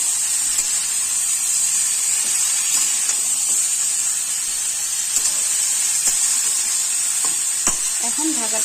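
A pot of Bengali mixed vegetable curry sizzles steadily just after a whole-spice tempering goes in, a constant bright hiss with faint occasional ticks and spatters, close and even throughout.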